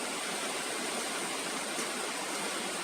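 Kasaroro Falls waterfall heard as a steady, broad rushing roar of falling water, even and continuous without breaks, with no talking over it.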